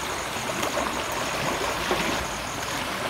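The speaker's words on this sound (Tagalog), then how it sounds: "Baha na naman dito sa ating bukid." Floodwater rushes across a farm field in a constant, dense roar of moving water, steady and close, with no voices.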